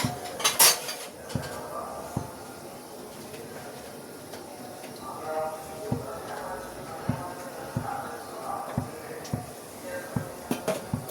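A metal cooking pot clanks and scrapes as oil goes in for vegetable pulao, with one sharp clatter at the start and then lighter taps and knocks against a quiet kitchen background.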